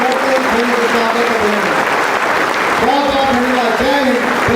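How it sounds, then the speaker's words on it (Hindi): Audience applause welcoming the Vice President at a youth event in India, a steady dense wash of clapping throughout with a voice faintly over it. "जोरदार खड़े होकर तालियां एक बार, स्वागत, अभिनंदन माननीय उपराष्ट्रपति जी के लिए, जोरदार तालियां रुकनी नहीं चाहिए"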